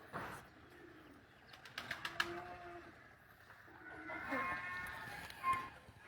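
Pigeons coo softly in a quiet pen, with a few throaty calls, a brief flutter of wings and faint talking nearby.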